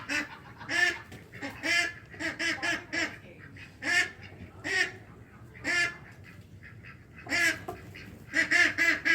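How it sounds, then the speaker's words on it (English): Ducks quack loudly and repeatedly in overlapping bursts, a noisy flock calling nearby throughout with a few brief pauses. "ducks are going crazy"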